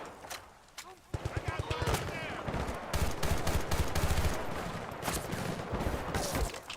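Machine gun fire in the video game Battlefield Bad Company 2: a sudden run of rapid automatic bursts, followed by dense overlapping gunfire with scattered sharp shots that stays loud to the end.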